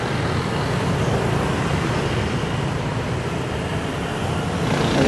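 Steady roadway noise from many passing vehicles fills the air around a moving scooter, a constant broad wash of tires and engines with no clear individual pass-bys.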